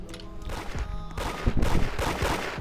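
Bursts of rapid gunfire in the video game Da Hood crackle and boom in quick succession, loud and close, with heavier shots clustering toward the end.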